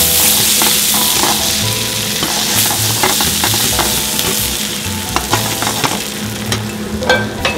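Butter browns in a pan with steady, loud sizzling that runs throughout, broken up by frequent stirring clicks and scrapes near the end.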